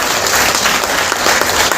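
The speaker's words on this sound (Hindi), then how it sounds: "एक बार जोरदार तालियां पूरे सभागार से।" Loud, dense applause fills a hall at a Hindi poetry book launch, continuous clapping from the whole audience with no pauses.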